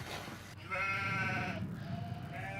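Goats grazing in a valley bleat twice, a long wavering bleat followed by a shorter one, fairly close and clear over a low outdoor background.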